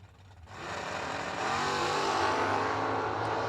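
Drag race cars, an 01 Camaro and a Monte Carlo, roar off the line at a drag strip, engines building into a loud, sustained wail that holds steady.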